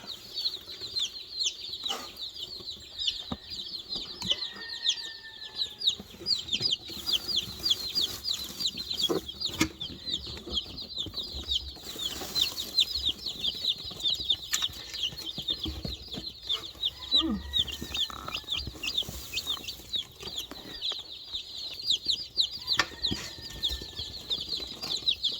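Baby chicks kept indoors near their water cheep constantly in high, thin peeps, with occasional wing flutters and soft rustling close by.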